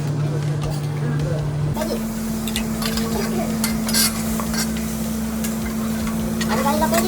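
Bacon frying in a pan during live Japanese cooking: soft sizzle with clinks of utensils and stirring, under a steady background hum, while people talk over it.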